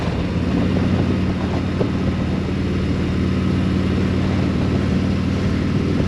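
A Harley-Davidson Street Glide Special is ridden on the road, its steady low engine rumble blended with constant wind buffeting, loud and unbroken throughout.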